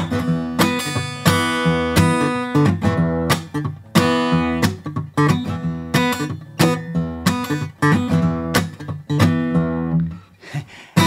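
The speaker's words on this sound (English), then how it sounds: "You're raking your fingers out to do the scratch bit." Blues on an acoustic guitar in a steady rhythm of sharp strummed chords with backhand finger rakes giving a percussive scratch, loud and close, no voices.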